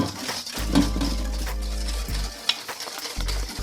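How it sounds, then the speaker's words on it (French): Whisk stirring a lemon tart cream of hot milk and egg mixture in a saucepan, continuous scraping and swishing with a few light clinks against the pan, close up and without talk. "Et je viens remettre ça dans cette casserole, tout en mélangeant."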